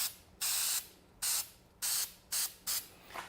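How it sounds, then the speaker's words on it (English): Spray adhesive hisses from a can onto the edge of a van's wood panel in five short, loud spurts with quiet gaps between them, in an upholstery shop. "we're going to go ahead and just spray this edge"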